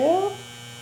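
A household washing machine runs in a quiet room, a low steady hum with a brief rising whine at the start that fades after a moment.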